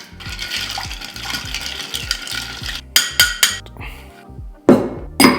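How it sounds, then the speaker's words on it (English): Crushed ice pours into a mint julep glass loaded with bourbon and mint, starting as a dense crackling rattle over repeated low thumps, then settling into several sharp, loud clattering bursts. "And fill the glass with that crushed ice."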